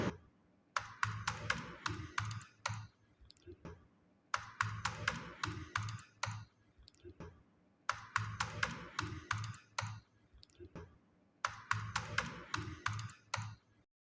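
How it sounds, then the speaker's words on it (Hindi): Bursts of typing on a computer keyboard while entering text into a form in MS Word, with quick clattering keystrokes in four short runs separated by brief pauses, close and fairly clear. "फिर उसके बाद यहाँ पे मैं टाइप कर लूँगी"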